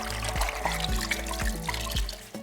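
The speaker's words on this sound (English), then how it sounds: "let me give this a quick dip in some water" Indigo-dyed shibori fabric is dipped into water, producing close trickling, dribbling and sloshing sounds in a few short repeated surges.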